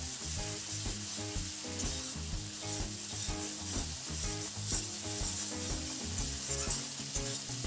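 Spice paste sizzles in hot oil for a small fish curry, with a loud, steady crackle and repeated stirring scrapes in the pan and no voices.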